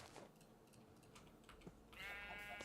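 Sheep in the Minecraft video game letting out one bleat near the end, a wavering tonal cry following a stretch of faint clicking and background noise.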